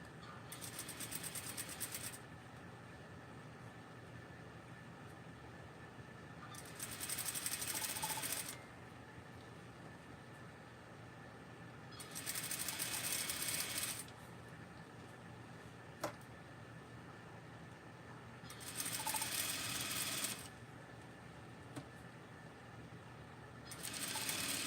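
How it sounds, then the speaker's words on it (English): Sewing machine running in slow, separate bursts while gathering ribbon with a back stitch, each whirring run lasting a second or two between quieter pauses, steady and close with no talking. "It seems like it's sewing really slow. That's because it's gathering."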